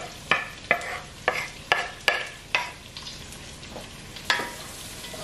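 Browned meat and onions frying in a pot, stirred with a utensil: a soft sizzle runs underneath while about seven sharp scraping knocks land at irregular intervals, close by.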